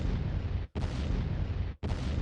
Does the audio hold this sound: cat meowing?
no